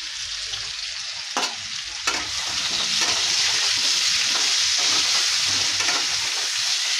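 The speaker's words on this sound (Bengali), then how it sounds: "নুন হলুদ দিয়ে লাল লাল করে ভাজবো আলুটাকে।" Potatoes with salt and turmeric fry in a pan, a steady close sizzle and crackle running throughout, broken by a few sharp scraping strokes as they are stirred.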